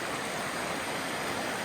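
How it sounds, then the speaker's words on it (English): A river on a rural Vermont land parcel rushes steadily, a dense, even wash of flowing water heard up close and alone, with no voices. "You can probably hear the river in the background."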